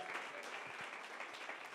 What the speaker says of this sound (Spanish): Les damos un fuerte aplauso también.